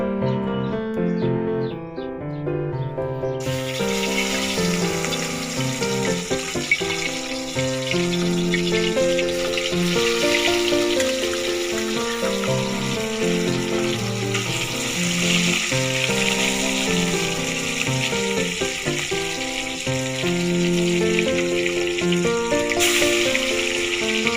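Oil frying in a pan for a mustard and spice fish curry, a steady hiss that starts after a few seconds and continues under loud, continuous background music.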